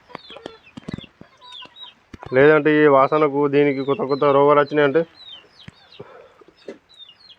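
A chicken's loud, drawn-out squawking call rises over scattered clucks in a country chicken shed, with someone speaking briefly before and after.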